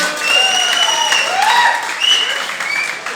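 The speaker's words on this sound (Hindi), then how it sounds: "इसके लिए आप लोगों को लिए जोरदार ताली होनी चाहिए।" Loud, steady applause from an audience at a sales conference in Kuala Lumpur, Malaysia, lasting a few seconds with some cheering mixed in.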